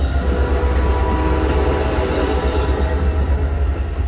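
A Norfolk Southern freight train, 13R, approaching on the line beside an Amtrak Carolinian, as a loud, steady rumble of rolling cars with no voices.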